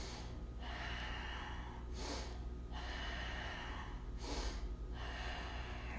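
Heavy breathing from a person holding a core exercise during a home workout, with slow loud breaths close to the microphone over a constant low hum.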